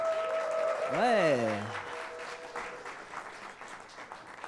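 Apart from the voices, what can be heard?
audience applause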